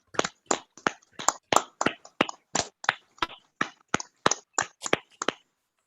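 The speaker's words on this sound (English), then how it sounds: "just give Sue a big round of applause." Quiet, steady hand clapping from an online poetry reading audience, a single even series of about sixteen distinct claps at a regular rhythm, with no talking.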